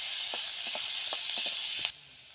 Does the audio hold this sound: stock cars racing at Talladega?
no